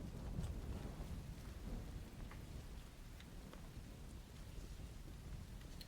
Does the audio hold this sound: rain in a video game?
yes